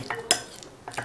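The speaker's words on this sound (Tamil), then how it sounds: "அதுல கொஞ்சம் பனானாவை போட்டுக்கோங்க. கொஞ்சம் இந்த மாதிரி மாஷ் பண்ணி விட்டுக்கோங்க." A spoon mashes banana inside a glass for a no-cook quick recipe, making a few light clinks and scrapes against the glass in just over a second, close and quiet.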